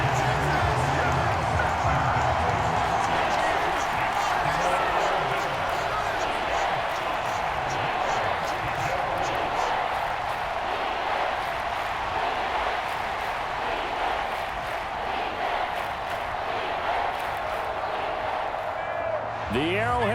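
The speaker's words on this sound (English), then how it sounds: "The Arrowhead crowd in full roar." A simulated NFL crowd at Arrowhead Stadium roars steadily in a Broncos–Chiefs game, a dense, sustained wall of cheering that holds at constant loudness throughout, with a play-by-play voice talking over it.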